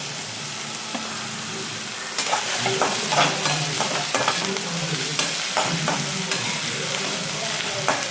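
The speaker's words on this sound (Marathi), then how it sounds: "आता मी टमाटा टाकून घेते. टमाटा चांगला हलवून घेते" Tomatoes fry in hot oil for a bitter gourd curry, a steady sizzle under close, repeated scraping stirs of a spoon against the pan.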